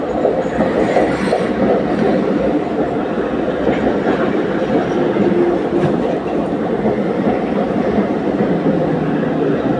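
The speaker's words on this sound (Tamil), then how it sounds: "ஆப்போசிட்டில் ஏதோ ட்ரெயின் வந்துருச்சுங்க" A passing train on the opposite track fills the scene with a loud, steady rumble and rattling clatter of wheels that continues without a break.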